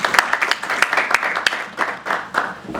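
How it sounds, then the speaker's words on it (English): Audience at a school capital markets quiz competition giving a short burst of clapping, loud and close, with individual hand claps audible as the applause tapers off. "A round of applause for Msengezi."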